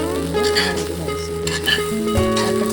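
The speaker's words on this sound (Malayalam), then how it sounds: "ഇരുമ്പിൻ ചട്ടി വെച്ചാൽ ഒരു ഫ്രൈ ആണ് നമ്മുടെ റൈസ്." Mixed fried rice with vegetables stir-fried in an iron pan gives a steady, close sizzle with stirring and scraping throughout, over a faint tonal background.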